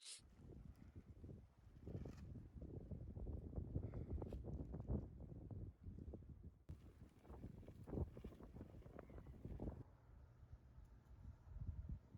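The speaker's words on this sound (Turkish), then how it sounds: "çok rüzgarlı ve karlı" Gusting wind at a snowy winter campsite buffeting the microphone in low, uneven rumbles, rising and falling throughout, fairly faint with no voices.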